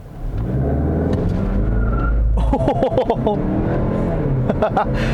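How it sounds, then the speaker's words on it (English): A 2021 Mazda CX-30 Turbo with all-wheel drive launches hard from a brake-torque start in sport mode. The engine rises and revs loudly, with a brief tire chirp. Someone talks over the sound from inside the cabin. "Let's put it into sport mode here. I'm going to just brake torque it ever so slightly."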